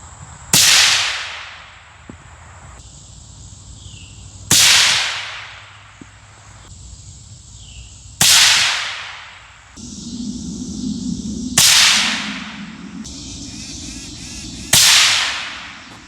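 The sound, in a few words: suppressed hunting rifle shots at a range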